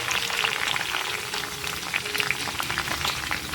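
Onion and masala fry in hot oil with a steady, bubbling sizzle and crackle, close and continuous with scattered spitting pops and no voices.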